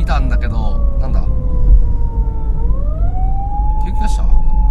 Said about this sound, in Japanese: 救急車警察か